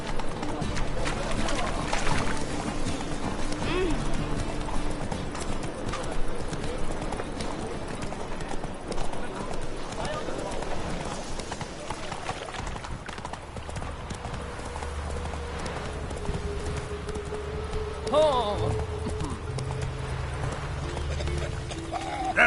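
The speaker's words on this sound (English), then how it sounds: "Whoa there, Roach" Horse hooves clip-clop in a steady rhythm as the horse Roach trots in The Witcher 3 video game, moderately loud, with someone talking now and then over the gait and soft ambient game sounds.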